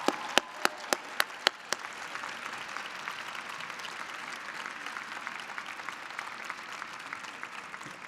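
A graduation audience at a 2015 commencement ceremony breaks into applause: several sharp, distinct claps at first, then a sustained, even wash of clapping from a large crowd in a big space.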